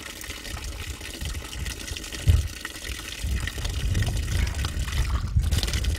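Water flows and gushes steadily at a front-line military position, a close, continuous splashing rush that swells slightly louder toward the end.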